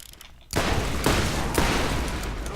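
A gun fired from the hip in Borderlands: after a quiet start, a loud burst of gunfire erupts and keeps going with distinct sharp shots standing out about every half second, and no one speaks.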